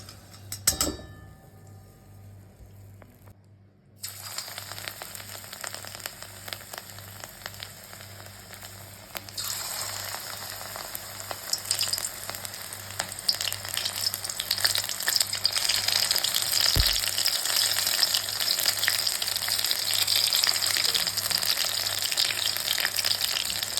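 Mushroom pakora in hot oil: after a quiet start, a steady sizzling fry rises and grows louder and denser, a close bubbling crackle that continues throughout with no talking.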